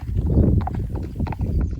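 A horse being led during dance training clip-clops on the ground, its hooves striking in a quick uneven rhythm, close and fairly loud, with no talk.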